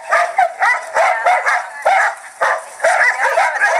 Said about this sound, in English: One of their favorite games is running along the fence and barking at each other.